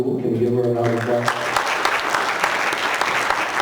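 Audience at a school board meeting applauding a middle school principal, steady sustained clapping from a room of people, with a voice speaking briefly over it at the start.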